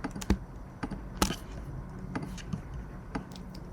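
Sharp, irregular computer keyboard and mouse clicks come from editing work in Photoshop 2025, close and distinct over a low room hum.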